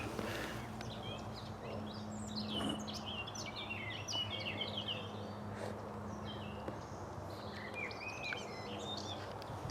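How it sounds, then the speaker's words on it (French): Many small birds chirp and twitter continuously in a vegetable garden with onion beds, bright calls overlapping near and far over a steady low hum and faint insect-like background. "les oiseaux gazouillent"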